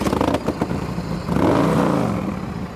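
A black, chrome-heavy 2004 Big Dog custom chopper motorcycle engine starts with a few clattering pulses, then rises into a loud, steady rumbling rev close to the microphone, alone without talk.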